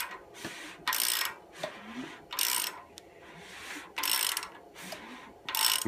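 Ford 302 V8 engine turned over by hand during a rebuild, giving repeated short ratcheting clicks in regular bursts, close and moderately loud with quiet gaps between strokes.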